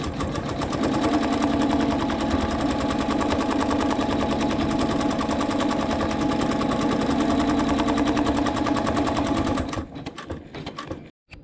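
An embroidery machine sews a placement stitch with a loud, steady, rapid mechanical whirr and needle chatter for about ten seconds, then stops abruptly, leaving a few faint clicks.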